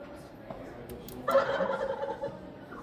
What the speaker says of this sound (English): So there's the sound, and that was the wild turkeys we saw on the side of the road